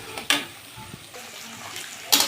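A little water poured into cooking curry masala makes two short, bright splashing bursts, one near the start and one at the end, separated by quieter sizzling and clatter, with no talk.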